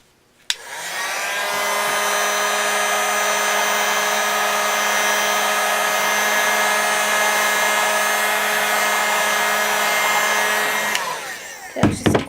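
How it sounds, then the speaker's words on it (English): A heat gun blasting hot air across a sheet of Thibra thermoplastic, a loud steady whir with a constant motor whine that starts abruptly, holds for about ten seconds, then cuts off with a few handling clunks. "that's just a quick pass with the heat gun"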